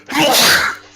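A single loud, close sneeze bursts out abruptly and fades within about a second, with no talking over it.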